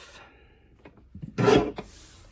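A paper strip cut with a trimmer for a card caddy craft project, giving a short rough rasping slide of the blade with a few faint scrapes before it, close and alone.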